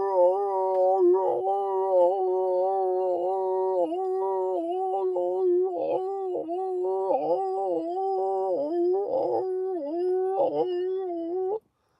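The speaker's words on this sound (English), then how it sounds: "But the dog was like howling." A dog howls in long, wavering sustained tones that rise and fall continuously for about eleven seconds, close and loud, with brief yelping breaks, heard alone in a backyard setting.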